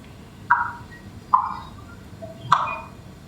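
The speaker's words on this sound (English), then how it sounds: "This is a sound of a small ant." Recorded sound of a small ant: three short, sharp chirps spaced about a second apart, each tailing off quickly over a faint, hissy background, with no voices.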